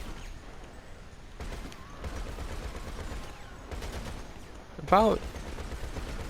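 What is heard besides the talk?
gunfire from a vehicle's weapon in a video game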